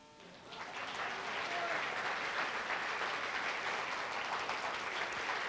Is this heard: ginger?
no